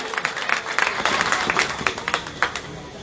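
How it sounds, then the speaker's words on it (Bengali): Crowd at a Trinamool Congress election rally in Sandeshkhali applauding, a spread of uneven claps with sharper bursts standing out, moderately loud and fairly close, with no clear talk over it. "আর আমরাও নিজেদের জন্য একটু করতালি দিই।"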